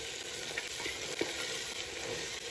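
Onions fry in a pan with a continuous close sizzle and occasional stirring scrapes, moderately quiet.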